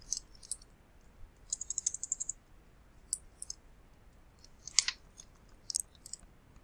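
Soft, sparse keystrokes on a computer keyboard while a Slack message is typed, coming in short bursts of quiet clicks with pauses between, close and faint with no talking.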